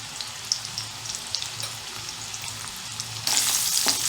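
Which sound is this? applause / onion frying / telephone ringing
onion frying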